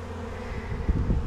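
Swarm of honeybees buzzing around a backyard hive just after an inspection, a steady close drone with a few louder passes as individual bees fly near.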